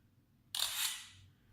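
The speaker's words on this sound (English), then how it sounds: "hate that shutter sound too, by the way." A single sharp camera shutter click from a Sharp Aquos Crystal phone, with a brief mechanical whir trailing off, alone in a quiet room.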